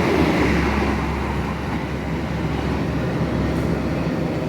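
The Kargo Anggrek freight train rumbles steadily through Pemalang station in Indonesia, a loud, continuous roar of wagons passing close by with no pauses.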